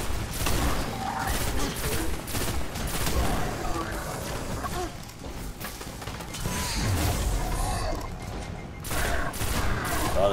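Gunfire in Destiny aimed at an airborne enemy: a steady run of rapid shots and mechanical weapon clatter fills the scene, loud and continuous with faint background talk.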